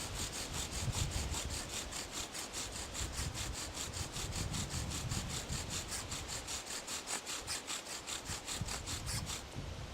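A bow drill spindle spins back and forth on a wet wooden hearth board to raise an ember, giving a steady rhythmic rasping and squeaking, close and loud, with regular strokes throughout and no talking.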